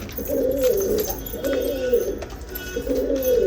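Ferozpuri pigeons coo in a steady series of low, rolling calls, three drawn-out bouts close by with a faint background hum.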